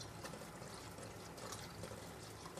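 Onion water is poured over kofta in a baking tray, a soft continuous trickle and splash of liquid that runs steadily throughout at close range with no talking.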